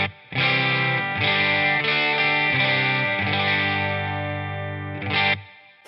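Electric guitar played through a Quilter Toneblock 202 Princeton Reverb preamp into a 1x12 cabinet, strummed chords with a distorted, effected tone ringing loud and steady, then stopping abruptly near the end.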